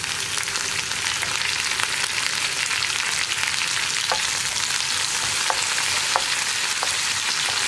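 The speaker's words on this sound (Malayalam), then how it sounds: "ഇതെല്ലാം ചേർത്ത് നന്നായിട്ടൊന്ന് ഇളക്കി കൊടുക്കുക. ആ ഇഞ്ചിയുടെയും വെളുത്തുള്ളിയുടെയും റോ ടേസ്റ്റ് ഒക്കെ ഒന്ന് മാറി വരുന്നത് വരെ ഒന്ന് ഇളക്കി കൊടുക്കുക." Chopped ginger and garlic fry in oil in a pan for mango pickle, a steady close hiss of frying broken by occasional light clicks of a spoon stirring, with no voices.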